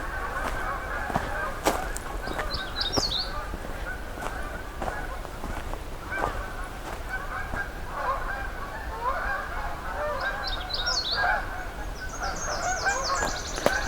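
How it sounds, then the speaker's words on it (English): Canada geese honk in the distance in brief bursts at Pine Tree Harbour, over a busy outdoor background of rustling and other birds, including a Nashville warbler. "hearing some Canada geese coming in"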